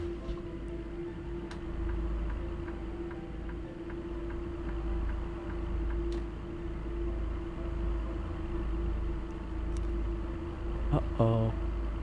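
A loud truck in American Truck Simulator heard from inside a cab with the windows rolled up: a steady, low engine rumble with a constant droning hum, followed near the end by a few brief clicks.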